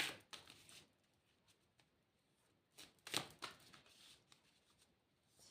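A deck of cards shuffled by hand during a card reading: soft, quick papery riffling bursts, fairly quiet and close, with a louder flurry near the middle and light rustling between.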